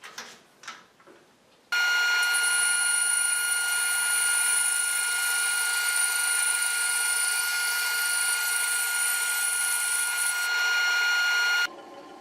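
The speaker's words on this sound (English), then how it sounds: "So this first cut will just be to try and square the board off, because it is not perfectly flat." A saw on a sled carriage cuts along the edge of a bowed wooden board to square it off, a loud, steady whine with a sustained high tone lasting about ten seconds, preceded by brief handling sounds.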